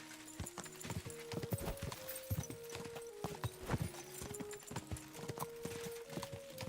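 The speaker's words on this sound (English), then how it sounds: "I'm riding my horse near some mines." Horse hooves clip-clop in a steady, quick rhythm, fairly faint, with a few soft vocal sounds layered over them.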